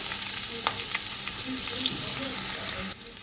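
Onion, ginger and garlic sizzling in a pan for chicken soup, a loud steady fry with scattered clicks and scrapes of stirring, close by, the hiss dropping slightly near the end.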